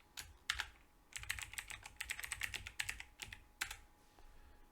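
Rapid bursts of keystrokes on a computer keyboard as an email address is typed, close and crisp, with short pauses between runs of clicking and no talking.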